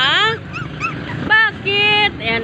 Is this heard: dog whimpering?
yes